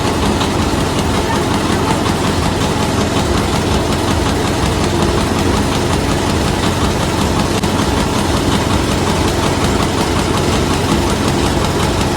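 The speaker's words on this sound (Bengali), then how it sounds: "নৌকাটা সব ভালো ছিল শুধু এই আওয়াজটা মাথাটা খেয়ে নিয়েছে" A motorboat engine runs at a steady, loud, unbroken drone with a rough, throbbing knock, heard close up from on board.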